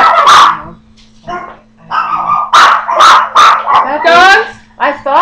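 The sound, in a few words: little dogs barking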